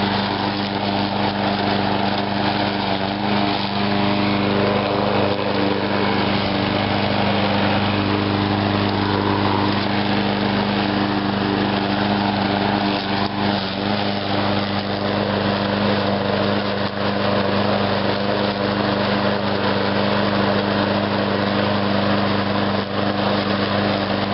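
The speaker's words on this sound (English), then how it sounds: "That's why I love these simple push mowers." Craftsman push lawn mower with a 5.0 Briggs engine running steadily nearby, a loud, constant buzzing drone holding at an even pitch without pauses or talk.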